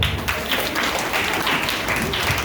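Applause fills the hall for a pastor at a Sunday school Christian social play, a steady, loud wash of clapping from an audience that carries on without a break.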